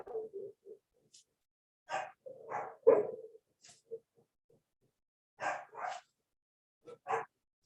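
A dog barks in short, separate bursts during a quiet Nevada Hazard Mitigation Working Group public meeting call, a handful of close, clear barks with long silent gaps between them.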